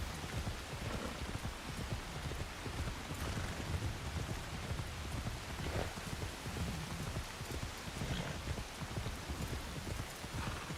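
Rain falls in the video game Assassin's Creed Shadows as a dense, steady hiss of drops with patters and splashes that run unbroken throughout, with no voices.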